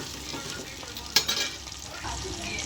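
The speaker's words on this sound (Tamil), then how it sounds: "அடுத்து பெரிய வெங்காயம் போட்டு ஒரு கிளறி" Onions frying in oil in a pan tempered with mustard seeds, fenugreek and curry leaves for a drumstick fenugreek curry, with a soft continuous sizzle and one sharp stirring scrape partway through.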